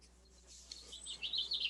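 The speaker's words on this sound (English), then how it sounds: "there's birds but not crickets." Birds chirp faintly in the background of an online meeting, with a few light, high tweets that grow into a short flurry of calls near the end, heard over a quiet room hum with no voices.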